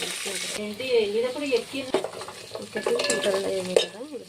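Whole spices sizzle and crackle in a hot pan for biryani with curry leaves and spice powder, stirred now and then, with a steady frying hiss and a voice talking briefly over it.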